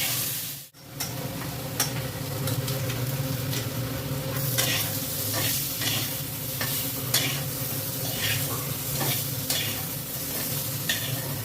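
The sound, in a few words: potatoes frying and being stirred in a pan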